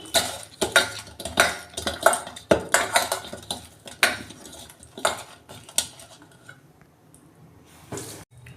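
A metal kadai, a wok-style pan, is set on a kitchen stove before fish heads are fried in it. Close, sharp clanks and scrapes of metal on metal come in an irregular burst, then quiet down.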